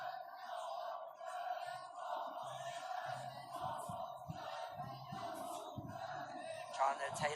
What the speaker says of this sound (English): Taylor again reacting to the crowd reaction.